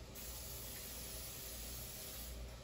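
Steady broadband hiss of an aerosol cooking spray on burger buns, held continuously at close range with no pauses and no voices.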